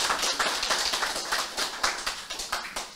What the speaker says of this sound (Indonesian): Tepuk tangan buat Bapak Ibu dulu.